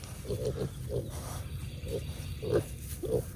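Pigs on a homestead give a series of low grunts and snorty oinks at uneven intervals, moderately close over a rough background rumble.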